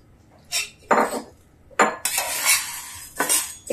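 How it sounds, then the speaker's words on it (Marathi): Dry sago pearls roast in a pan for fasting sabudana khichdi, heard as a series of loud close scraping sweeps of a metal spoon across the pan with gritty rattling in between and no voices. "2 ते 4 मिनिटं आपण असा परतून घेणार आहोत त्याला"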